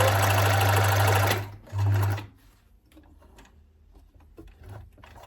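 A sewing machine stitches denim for a Quebec skirt. A long loud run of steady motor stitching is followed by a shorter burst, then quiet fabric handling and faint clicks.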